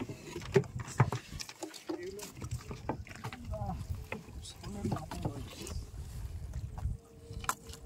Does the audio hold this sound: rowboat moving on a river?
yes